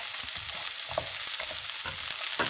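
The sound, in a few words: onions softening in oil in a pan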